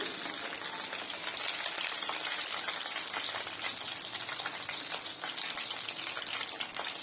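Chicken leg pieces deep frying in hot oil, a dense, steady crackling sizzle that holds at an even level throughout with no talking.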